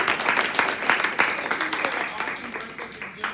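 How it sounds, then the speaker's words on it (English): An audience at a community education event on refugees and immigration applauds its panelists, lively clapping from many people with distinct sharp claps, some voices mixed in, tapering off toward the end. "can we have a round of applause for our panelists?"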